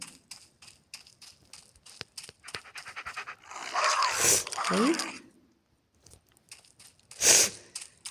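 A dog in the Roblox video game pants and huffs in a few rough bursts, with crunchy, chewing-like noises between softer clicks and taps.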